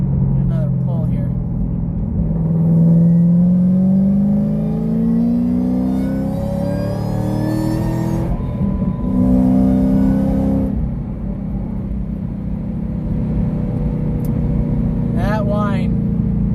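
Shelby GT500 accelerating hard, with a rising supercharger-style whine climbing in pitch over a loud engine roar, then a second pull, while someone talks over it.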